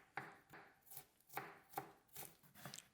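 A knife chops peeled garlic cloves and ginger finely on a board, giving about eight sharp, close taps in an uneven rhythm with no voices.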